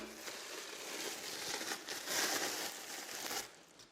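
Plastic film is peeled off a mould of frozen Greek yogurt ice cream with honey and walnuts, giving a continuous close crinkling and crackling rustle of several seconds, with no talking.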